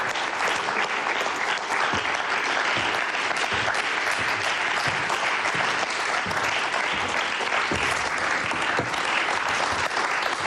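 A Bulgarian Deal or No Deal studio audience breaks into loud, sustained applause, a thick, unbroken roar of clapping that stays at full strength throughout.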